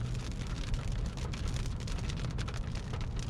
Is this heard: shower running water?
no